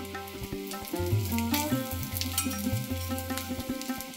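Vegetables and coconut sautéing in a pan as coriander seeds go in, giving a close, continuous sizzle with spoon scrapes and clinks against the metal, alone without talk.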